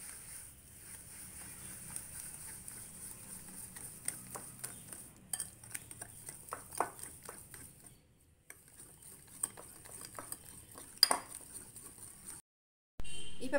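A spoon scrapes and taps around a bowl while mixing banana and sugar for a banana cake, in steady, uneven strokes, close by, with a short pause partway and no talking.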